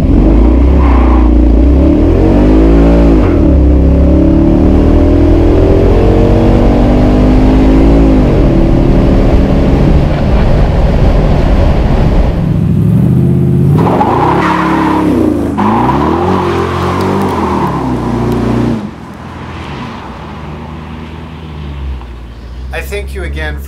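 A 1950 Buick Roadmaster convertible, a restored derelict, launches hard up a freeway on-ramp. The engine revs and pulls loudly through repeated rising gear sweeps with some tire noise, then eases off, and a voice speaks over it.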